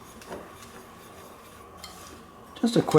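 Light fish coating mix stirred in a bowl, soft scraping and rubbing against the bowl that ends in a brief burst of louder clinking, with no talk over it.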